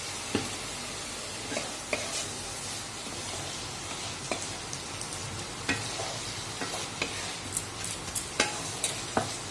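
Banana flower curry with chickpeas and lentil dumplings sizzles in the pan after a splash of water, a soft, even hiss broken by light spatula taps and scrapes that repeat every second or so, fairly quiet and close.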